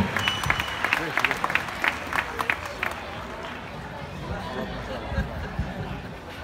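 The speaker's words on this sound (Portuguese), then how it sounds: "Aí, galera, salva de palmas para o nosso super campeão, Pedro Henrique Silva Spajari." Crowd at a swimming event applauding a champion swimmer. Scattered, sharp claps come in bursts at first, then give way to murmuring chatter and general crowd noise.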